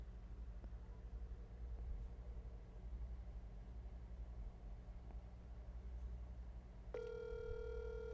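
A telephone starts ringing near the end, a steady electronic ring tone over a low constant hum of room or car noise, loud and alone after several seconds of background rumble.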